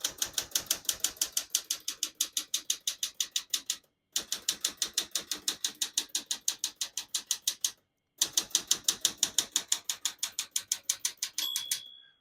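Rapid, steady clacking of a 1966 Smith-Corona Super Sterling manual portable typewriter, with keystrokes in quick bursts broken by two short pauses, and a faint tone near the end.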